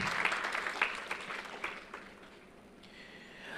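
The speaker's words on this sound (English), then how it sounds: "One more time, shall we give them a round of applause," Audience applause for panelists at a health innovation festival session, a moderate burst of clapping that thins and fades within a few seconds, leaving faint room tone.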